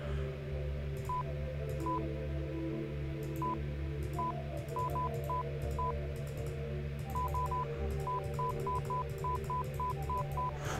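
Telephone number dialled on a phone in a video game: a run of short DTMF key tones, irregularly spaced in quick bursts with pauses, over a steady low hum, with no talk.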